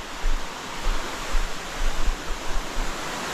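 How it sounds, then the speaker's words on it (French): Rushing water at the top of a waterfall roars in a steady broadband wash, close and continuous, with a low rumble pulsing underneath and no voices. "Et voilà, on arrive en haut de la cascade."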